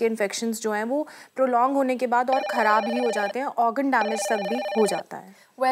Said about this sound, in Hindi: जैसा कि आप सुन पा रहे हैं फ़ोन की घंटी लगातार बज रही है